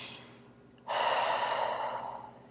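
Slow deep breath during a tapping relaxation exercise, a long airy exhale close to the microphone following a faint earlier breath.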